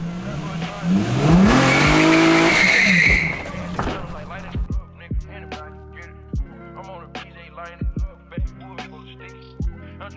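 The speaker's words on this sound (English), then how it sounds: "I'm just bolting up the drive shaft up there. And then we just have to bolt in the axles. And do dirty burnouts." A Nissan G35 sedan with a welded differential revs hard with a rising engine roar and tire squeal for a few seconds, then drops to idle under scattered clanks and knocks.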